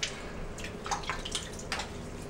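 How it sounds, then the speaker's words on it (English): Water being added to a tallow shaving soap lather for a face lather, with soft drips and small splashes over a quiet background, close by. "I'm adding a little bit of extra water."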